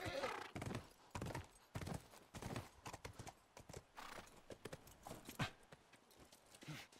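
A horse's hooves clop steadily and close at a brisk gait in the video game The Last of Us Remastered, with a brief whinny and occasional thumps, a voice murmuring faintly underneath.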